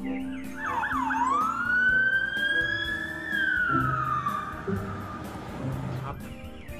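A toy police car's wailing siren rises and falls in a long sweep, loud and close, with a voice talking over it.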